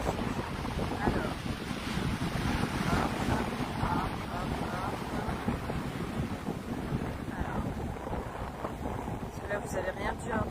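Powerful ocean waves roar continuously at the seashore as strong wind buffets the microphone, loud and unbroken, with a voice speaking under the noise.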